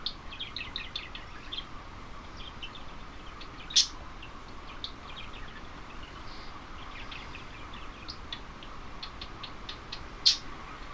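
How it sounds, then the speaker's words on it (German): A pet bird in a room gives faint, sparse high chirps and squeaks, with two sharper squeals standing out over a low steady background hum. "Und mein Vogel meint, er soll quietschen."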